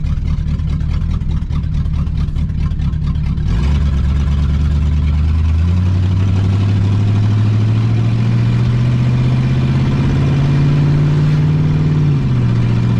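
A 1969 Pontiac Bonneville station wagon's 428 V8, roused after 45 years parked, drones loudly and steadily while driving, its pitch climbing smoothly through the gear as the engine pulls, with no talk over it.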